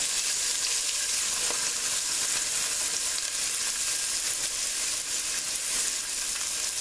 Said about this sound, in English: Next I got 4 pieces of celery that I chopped up, and we're going to go ahead and throw that in there.